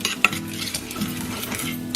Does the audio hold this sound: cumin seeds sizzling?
yes